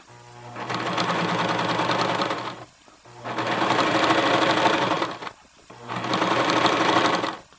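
A Janome HD 1000 sewing machine fitted with a size 16 denim needle stitches through denim in three sustained runs, its steady motor hum and rapid needle clatter close and loud, separated by short pauses.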